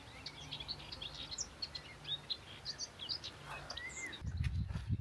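A chattery little warbler sings alongside a whitethroat in spring, a string of quick, faint high chirps and trills from some distance over a quiet outdoor background, with a low rumble at the very end.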